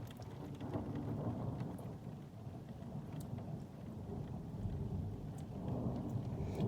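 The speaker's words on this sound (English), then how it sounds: "This is part 2 of the thunder." Steady, heavy rain falls throughout a thunderstorm while deep, low thunder rumbles and rolls underneath, swelling louder toward the end, with no voices.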